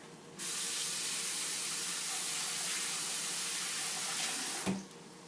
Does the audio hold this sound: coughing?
no